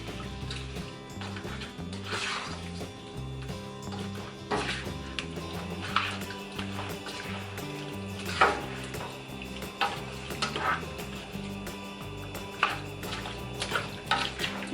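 A utensil stirs garlic shrimp together in a pan, with soft scraping and scattered taps over a steady sizzle and background music.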